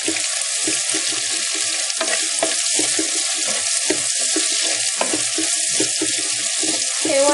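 Large chunks of onion sizzle and crackle steadily in a hot pan for Sri Lankan spiced chickpeas, with occasional stirring clatter and no voices.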